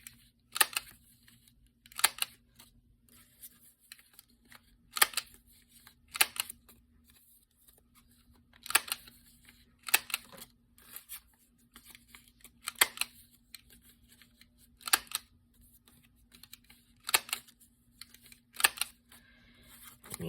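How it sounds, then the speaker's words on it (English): A 1/4 inch corner rounder punch nips paper corners, sharp crisp clicks coming in small clusters every couple of seconds, close and quiet with a faint steady hum behind. "Use the 1/4 rounder again. Just gonna nip all 3 corners there."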